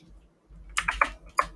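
Computer keyboard typing, a short run of several close, crisp key clicks with slight pauses between them, alone without talk.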